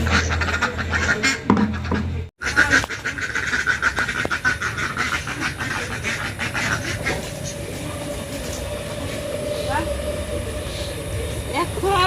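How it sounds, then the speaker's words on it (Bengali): Hungry domestic ducks on a village homestead quack in scattered bursts alongside someone talking, with a brief sharp break early and steady background noise throughout. "জ্বালাচ্ছে হাঁস আজকে হাঁসের সকালবেলা বেশি খাবার দেওয়া হয়েছিল না এই জন্য খিদা লাগছে"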